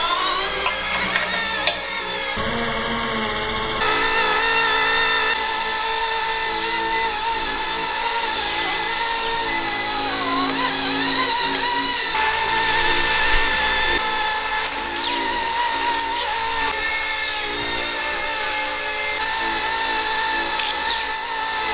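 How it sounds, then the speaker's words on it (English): A small motor whines at a high, steady pitch with a buzzing rotor, running continuously close by, dropping out briefly near the start. "Yeah, I love this helicopter."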